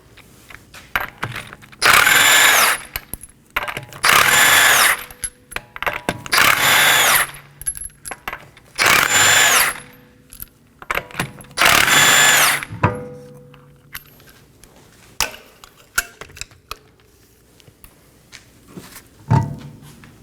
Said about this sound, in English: Let's remove our rear wheel. There are 5 21mm lug nuts.